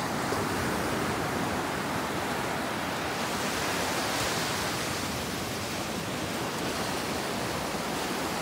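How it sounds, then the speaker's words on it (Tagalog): Sea waves at Bucana Beach in Batangas make a dense, continuous roar of broadband surf that holds at a steady, fairly loud level, with no voices over it. "Nandito po tayo sa dagat, Aroys."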